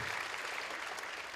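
An audience at a university talk event claps steadily, a dense even wash of applause held at moderate level throughout the short span.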